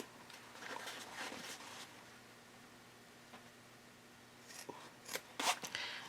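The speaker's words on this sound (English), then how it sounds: "we want to clip a little angle into these top corners here" Scissors snip the corners of a sewn Cordura fabric wallet, giving a few quiet, brief clips with soft rustling between them in a hushed room.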